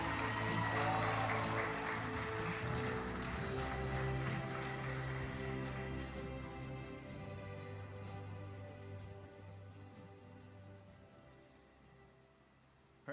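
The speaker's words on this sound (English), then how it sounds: "another round of applause for Ethan Whitchurch Aird" Audience applause at the Orion Academy graduation ceremony, a sustained broad patter of many hands clapping that stays fairly loud throughout before gradually thinning out, with a low steady hum underneath.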